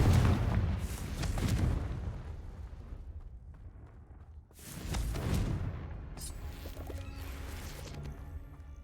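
A fire spell blast in the video game Hogwarts Legacy, a loud rumbling explosion that booms at the start, fades, then a second big burst erupts midway with crackling debris trailing off.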